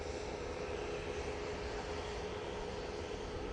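A KLM airliner approaching Manchester Airport gives a steady, broad jet roar at moderate distance, with a faint tonal whine riding above the rumble throughout.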